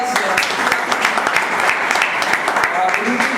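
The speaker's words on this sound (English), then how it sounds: "Give him a round of applause" Dense applause for a speaker at a Toastmasters evening, steady crowd clapping throughout with a few voices mixed underneath.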